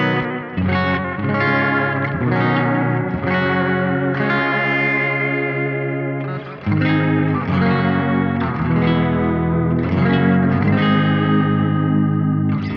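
Electric guitar chords run through a Roland Space Echo tape echo on its old tape setting, ringing out loud and sustained with smeared, darkened repeats trailing each strum, no talking.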